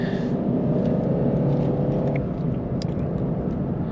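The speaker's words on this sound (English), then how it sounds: "we're in sport mode, so that's shifting down automatically" A 2020 Lexus IS 300 AWD with a 3.5L V6 hums steadily from inside the cabin in sport mode, the engine note shifting as the transmission downshifts automatically; low, continuous rumble with no talk.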